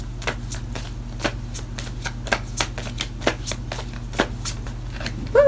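Tarot cards being shuffled by hand, a series of crisp, irregular riffling snaps and slaps close by over a faint steady hum.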